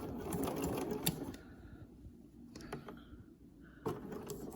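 A sewing machine runs close up, stitching back and forth across a scrunchie wristlet keychain in short bursts of fast, rattling needle strokes separated by brief pauses.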